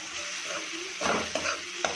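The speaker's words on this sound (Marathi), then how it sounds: "कांदा लसूण मसाला, मालवणी मसाला हे व्यवस्थित मिक्स करून घेणार आहोत।" Onion-garlic masala and Malvani masala are stirred together in a hot pan for prawn masala, a close sizzling fry broken by a few scraping strokes of the spoon.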